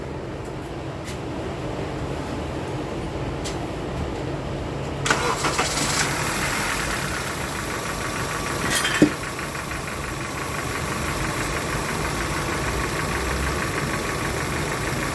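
Honda Civic with a bad catalytic converter starting up after a few seconds of quiet, then settling into a steady, slightly rough idle, close by, with no voices.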